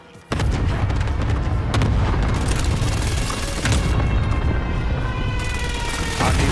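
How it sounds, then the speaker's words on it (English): Precision airstrike explosions in a multiplayer video game: a sudden onset into a sustained, very loud barrage of booming blasts and rumbling detonations that continues almost unbroken to the end. "Allied yes, precision airstrike incoming."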